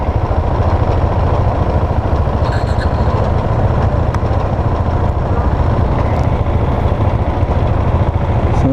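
Single-cylinder engine of a 2019 Husqvarna 701 Vitpilen motorcycle running steadily while riding, a loud, continuous low rumble with a fast, even pulse throughout and no talking.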